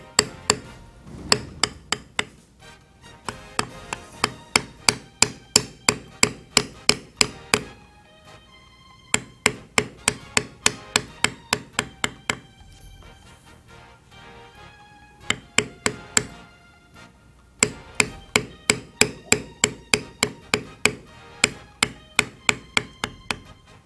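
Light, steady mallet taps on a sharp leather beveling tool during Western floral carving, a quick even series of hard clicks in several bursts with short pauses between them.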